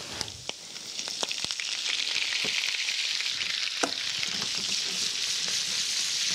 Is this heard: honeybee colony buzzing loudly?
no